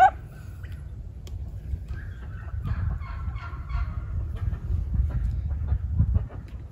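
Ducks in a backyard pen give soft, scattered chirps and quacks, moderately close, over a steady low rumble of outdoor background noise.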